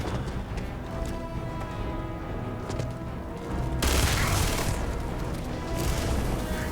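Gunfire from a heavy weapon in the sci-fi game Starfield, a dense stream of shots over a steady game backdrop, then a louder, harsher burst of fire near the end.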